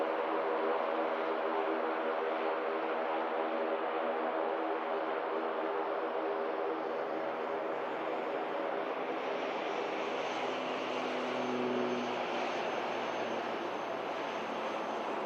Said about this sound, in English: As the other ATR initiates the departure roll.